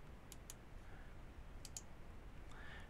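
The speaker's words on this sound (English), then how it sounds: "So you can right click on that," Computer mouse buttons click twice in quick pairs, crisp and close, against a quiet background hiss with no talking.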